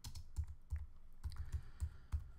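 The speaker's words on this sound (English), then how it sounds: "I hit MM on the keyboard" Rapid, uneven keystrokes on a computer keyboard while editing a project in Final Cut Pro X, close and fairly quiet, with no voices.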